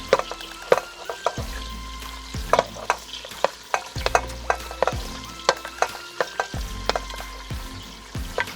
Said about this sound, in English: So I'm just gonna add the onions.